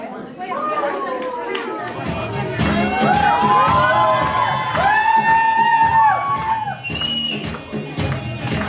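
A crowd at a Nepali mehendi celebration cheers and whoops as a welcome, with lively chatter and shouted voices rising and overlapping throughout, close and fairly loud.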